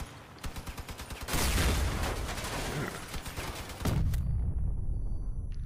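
Vehicle-mounted guns firing in the online combat game Crossout: rapid bursts of automatic fire, loud and close, with a short staccato run followed by sustained heavy volleys.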